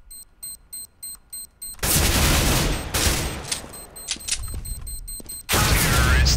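Gunfire in Counter-Strike: Global Offensive, a rapid run of evenly spaced single shots followed by louder sustained bursts of automatic fire with short gaps, close and loud, no talk.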